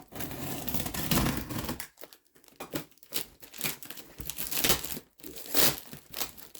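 A Stanley knife cuts open a heavily layered, well-packaged panel box: close crinkling, scraping and tearing come in bursts with brief pauses, and the rustling is loud and irregular.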